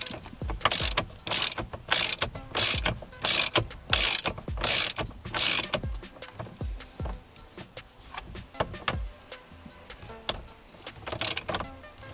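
A ratchet wrench tightens the steering-wheel nut on a 2007–2013 Chevrolet Silverado, rapid clicking bursts repeating in quick strokes with brief pauses, close and loud, with no speech.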